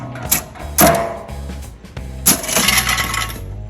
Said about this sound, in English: I'm going to give it a spin for you.